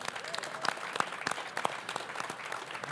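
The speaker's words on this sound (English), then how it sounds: "give them a round of applause" A studio audience applauds guests on a music talk show, a steady run of close, crisp hand claps with a few louder individual claps standing out, moderately loud throughout.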